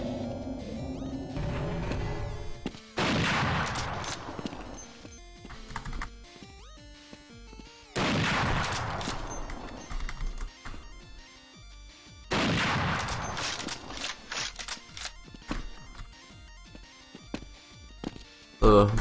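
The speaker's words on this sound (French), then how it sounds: "Le sniper qui vise à côté, normal." Bursts of gunfire and sniper shots in the Half-Life game, loud clusters of cracks separated by quieter stretches, with keyboard-like clicks and a voice speaking in between.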